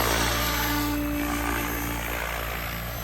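A SAB Raw Piuma RC helicopter on a 12S setup spins its rotor at 1700 head speed, giving a loud, steady whine and buzz with strong low drone throughout, alone and without talk.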